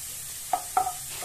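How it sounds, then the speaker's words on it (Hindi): Whole dried chillies go into hot oil for a Rajasthani cholai greens dish and are stirred, giving a faint background sizzle and two or three quick scraping stirs near the pan. "इसमें दो हम मिर्ची डाल देंगे। आखी मिर्ची को डालेंगे।"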